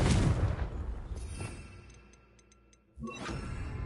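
A Confringo fire spell blast in Hogwarts Legacy bursts loudly at the start, fades into a dwindling rumble, then a second sharp blast hits near the end, followed by sustained roar.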